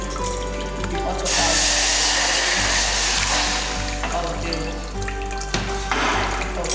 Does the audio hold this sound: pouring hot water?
yes